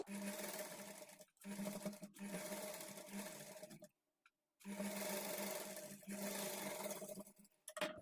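Sewing machine stitching blouse lining in long continuous runs broken by a few brief stops, with a steady motor hum close by and no voices.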